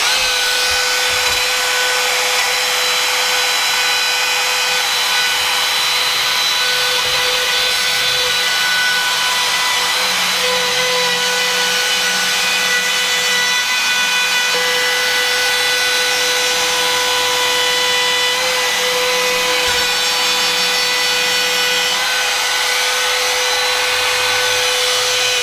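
A bearing-guided router runs along the edge of an antique oak dining table, a loud, steady high-pitched whine with a sustained tone that holds for the whole stretch, its cutting load shifting slightly as it works.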